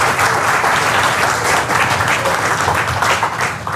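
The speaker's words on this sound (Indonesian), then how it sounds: "Oh, tepuk tangan." Sustained audience applause fills a hall during a product demonstration of Kangen Water, dense steady clapping from a sizable crowd, loud and continuous throughout with no one speaking over it.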